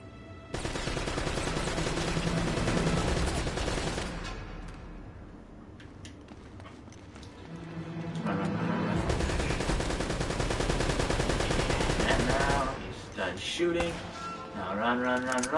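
Sustained machine gun fire from an enemy turret in Uncharted, long loud bursts running several seconds each with a brief lull between them and scattered game effects.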